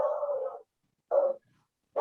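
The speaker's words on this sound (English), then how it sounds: "That dog agrees with you." A dog barks three times in a row, each bark short and mid-pitched, with pauses between them, heard clearly and fairly close with no talking over it.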